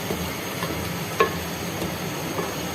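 Masala of spices and tomato puree sizzles in a pan with a steady, soft hiss. A single utensil clink sounds about midway. No voices.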